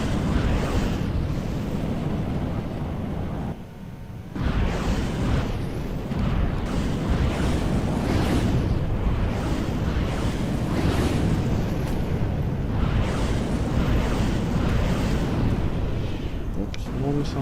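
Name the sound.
missile explosions at sea in video game From The Depths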